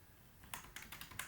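Computer keyboard typing while entering a name into an Excel spreadsheet: a short burst of quick, crisp key clicks in an irregular rhythm, close and moderately quiet over a faint low hum.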